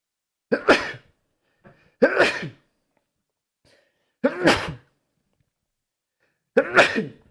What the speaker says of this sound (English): You can tell you're getting old by how many times you sneeze, right?